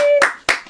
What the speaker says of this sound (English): give a huge round of applause to Savannah